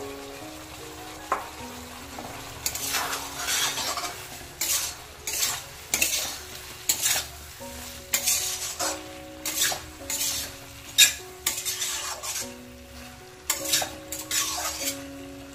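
Okra goes into a pan of frying prawn masala and is stirred, a spatula scraping and knocking against the metal in irregular bursts over a steady low sizzle.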